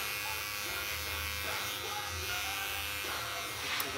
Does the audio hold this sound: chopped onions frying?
no